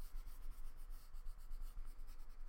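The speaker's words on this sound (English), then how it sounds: "I'm just using a blue pencil crayon right now." A blue pencil crayon shading and coloring on paper, a steady close scratchy rubbing with repeated back-and-forth strokes across the whole stretch, no voices over it.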